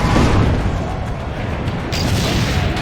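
A cannon booms in Assassin's Creed Brotherhood, a heavy, dense roar with rumbling debris that stays loud throughout and shifts slightly near the end.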